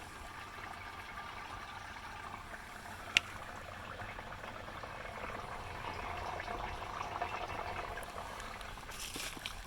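Water trickles steadily through a homemade three-bucket emergency water filter, a faint continuous liquid patter with one sharp click partway through.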